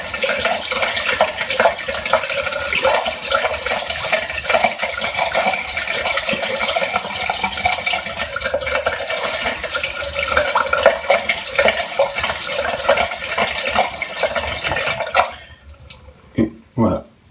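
Tap water runs steadily as a shaving brush is lathered, a continuous close splashing hiss that cuts off near the end, leaving a few short knocks.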